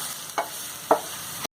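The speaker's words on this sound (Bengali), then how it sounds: "একটু নেড়ে নিয়ে চপড অনিয়নগুলো দিয়ে দেবো।" Chopped onions tipped into hot melted ghee with cinnamon, cardamom, cloves and bay leaves, giving a steady close sizzle broken by two short scraping stirs before an abrupt stop.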